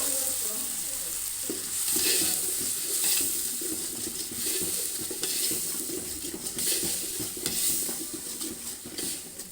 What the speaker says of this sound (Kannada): ಇಲ್ಲಿ ನಾನು ಶುಂಠಿ ಬೆಳ್ಳುಳ್ಳಿ ಪೇಸ್ಟು ಹಾಕ್ತಾಯಿದ್ದೀನಿ